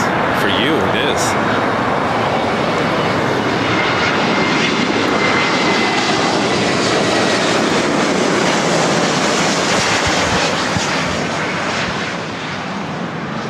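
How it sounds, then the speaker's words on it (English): Delta Airlines Airbus A321neo jet arriving at LAX from Seattle, a loud sustained engine roar filling the whole stretch and easing slightly near the end, with faint voices underneath. "This is Delta Airlines 2752 coming in from Seattle on an A321 Neo."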